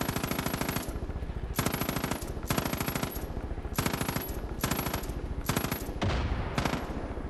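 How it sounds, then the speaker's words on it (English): Rapid automatic gunfire rattles in sustained bursts in Far Cry 5, loud and close, with several long strings of shots separated by brief pauses and a final choppier burst. "I'm shooting at the top of a tree right now, I think"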